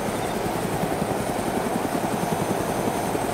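A video game helicopter rotor drones loudly and steadily throughout, with a fast, even chopping thump under the engine whine and no talk.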